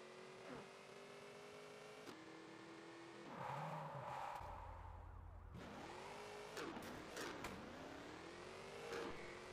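A car racing at top speed in the mobile game Car Parking Multiplayer gives a steady synthetic engine drone with repeated rising rev sweeps as it shifts, fairly quiet, alone without talk.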